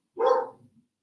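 A dog gives one loud, close, full bark that trails off quickly, set off by a delivery arriving.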